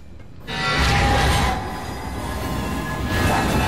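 Subway train arriving in Alien Isolation: a loud, steady rumble of rolling rail cars with wheel squeal and clatter, close by and filling the whole stretch.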